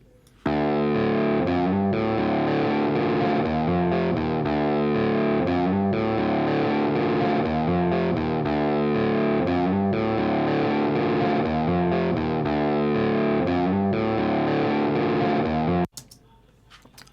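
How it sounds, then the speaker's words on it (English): A distorted electric guitar riff plays alone, steady and loud, with chorused, effects-heavy repeating chord patterns running for about fifteen seconds before cutting off. "This is the guitar."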